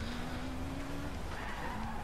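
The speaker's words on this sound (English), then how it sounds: "So I'm gonna just drift about this roundabout." Tires squeal steadily on a Ford RS 2000 drifting around a roundabout in Forza Horizon 2, a continuous tonal screech over the engine's drone.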